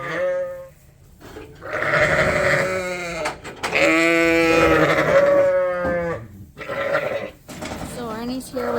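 Sheep and lambs bleat repeatedly and loudly on a winter farm during sheep moving, overlapping calls in quick succession close by, with a few short gaps between them.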